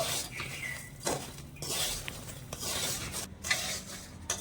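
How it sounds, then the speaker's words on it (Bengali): Danadar sweets made from flour and sugar are tossed and stirred through loose sugar, giving scraping, gritty rustles in uneven bursts with occasional light clinks against the bowl, close and fairly clear. "এই চিনিটা দিয়ে ভালো করে মিশিয়ে নেব"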